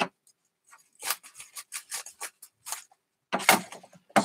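Scissors snip through packaging material while a parcel is packed, giving a string of short, sharp cuts close by, then a brief pause and a louder cluster of cuts near the end.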